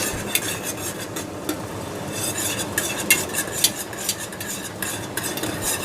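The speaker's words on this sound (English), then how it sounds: "We're just going to continue to stir this." A spoon scrapes and clinks steadily around a pot of apple cider jelly, with a soft bubbling sizzle underneath; irregular light taps throughout, no voices.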